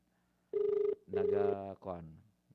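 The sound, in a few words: cellphone ringing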